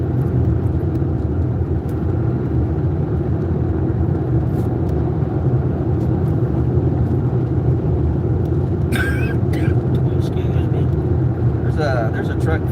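A truck or SUV with New Mexico plates passes on Highway 90 between Uvalde and Hondo on a 100-degree day, a steady low road rumble that fills the whole stretch without a distinct peak.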